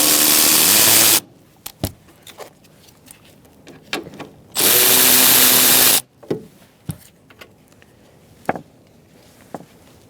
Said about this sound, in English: using our 13mm socket, we're going to finish taking out these nuts